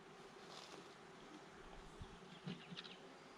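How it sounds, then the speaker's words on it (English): Low, steady honeybee buzzing hums throughout with a few brief louder buzzes passing close, like bees flying near the listener, as packaged bees are installed in a hive. "I let a few more bees out on that one"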